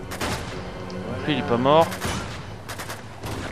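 Gunfire in Uncharted 2 crackles in quick shots beneath someone speaking French over the game, with a bright burst near the middle before the shooting thins out.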